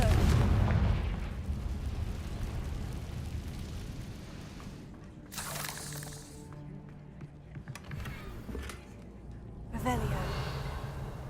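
Confringo blast spells detonate in Hogwarts Legacy, several booming bursts spread through the stretch, loud and close, with noisy flares around the middle and near the end, over a busy game backdrop and some voice.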